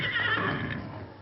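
A horse whinnies in a radio western, a single bright, wavering neigh heard close and loud over a low rumbling storm-like background.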